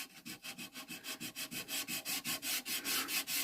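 Steady back-and-forth sanding of an olive wood platter with 320-grit sandpaper, a rhythmic series of about fifteen scratchy strokes that grow slightly louder and faster, close and alone.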